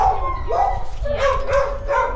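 A dog barks and yips in a few short, sharp bursts, close by, mixed with whimpering, howl-like tones and no clear talk.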